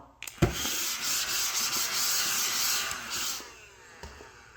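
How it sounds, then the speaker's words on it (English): Steady, gritty rubbing of sandpaper lightly sanding a wooden model dory, continuous for several seconds with a few knocks at the start, close and moderately loud. "And I'm just lightly sanding it."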